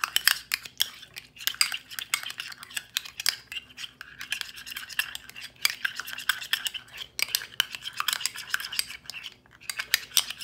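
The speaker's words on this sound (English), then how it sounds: "Put the mayonnaise in there, and then mix it to a nice consistency." A utensil stirring mayonnaise and sriracha sauce in a bowl, steady close scraping and clinking strokes, fairly quiet with no talk.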